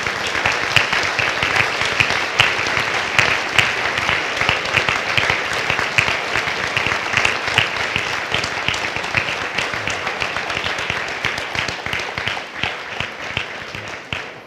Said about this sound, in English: join me in a round of applause to thank them for their support in making this journey possible